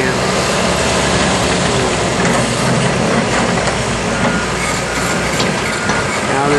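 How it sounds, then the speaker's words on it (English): Loud, dense mechanical clanking and grinding from a John Deere digging machine at work, a continuous rattling, ratchet-like din with scraping and knocking that fills the whole stretch without pause. "That's a John Deere digging machine."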